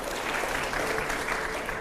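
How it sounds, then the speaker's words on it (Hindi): Studio audience applause on a Hindi TV9 Bharatvarsh news debate show: a dense, steady wash of many hands clapping at even loudness throughout, with no talk over it. "तालियां जरूर हो प्लीज।"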